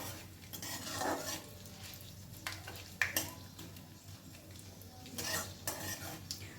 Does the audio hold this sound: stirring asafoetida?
yes